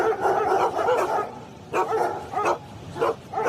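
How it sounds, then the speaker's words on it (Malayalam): Dogs barking in bursts, a run of rapid barks followed by several separate yips at uneven intervals, moderately loud and close, with no talk. "അയ്യോ നായ്ക്കൾ, എനിക്ക് പേടിയാവുന്നു."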